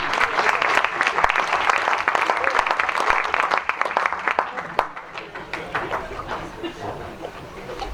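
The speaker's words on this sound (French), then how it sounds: "On peut les applaudir, oui." A French town reception crowd in Saint-Sever applauds honoured sportspeople, a dense, warm roar of many hands that stays full for several seconds before thinning and fading out.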